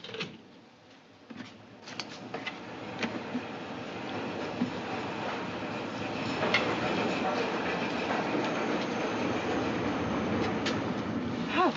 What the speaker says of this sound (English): The train for Ketchworth is now arriving at platform 3.